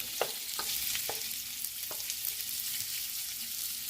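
Pork chops frying in a skillet for championship chili, a steady broad sizzle with several sharp clicks and taps of utensils early on, close and fairly quiet, no voices.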